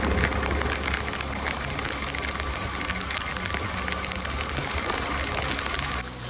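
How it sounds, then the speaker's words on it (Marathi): Steady heavy rain pattering on surfaces, dense and continuous throughout, with scattered sharper drops; fairly loud and close, no voices. "चला पावसाचा आनंद घेऊया"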